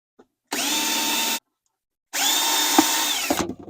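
A metal drill bit enlarges a hole in a plastic lid of a rice or dog food container, in two loud whirring bursts, the second ending with rough grinding and rattling as the bit bites.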